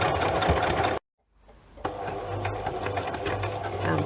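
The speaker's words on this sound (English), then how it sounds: "I'm always nervous doing back stitch when it's on a page" A sewing machine back-stitches through paper on a junk journal page, a fast mechanical whir that stops abruptly for a brief silence, then restarts and runs steadily nearby.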